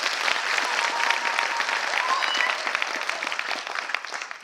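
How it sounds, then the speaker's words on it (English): Graduates at a university graduation ceremony clap for themselves, a dense, steady round of applause from a large crowd that carries evenly throughout, with some faint voices mixed in. "Can you give yourself a round of applause?"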